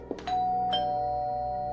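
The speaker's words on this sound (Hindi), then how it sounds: "डोरबेल वापस वैसे ही जोर जोर से बजने लगी" A doorbell rings a bright two-tone chime, close and clear, its tones lingering and ringing out.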